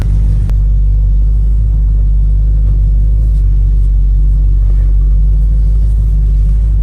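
Loud, deep rumble of a 1971 Cutlass engine running steadily close up, a constant low drone as the car moves off.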